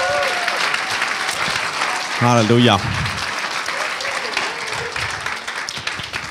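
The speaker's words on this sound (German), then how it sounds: "Applaus" A church congregation applauds during a service, a continuous wash of clapping as a preacher's voice calls out over it and a short sung or shouted exclamation rises in the middle.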